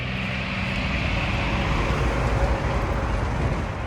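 Loud, broad rumbling roar of a truck passing close by, steady engine and road noise filling the whole moment with no talking.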